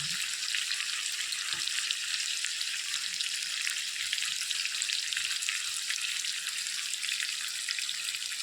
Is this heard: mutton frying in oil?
yes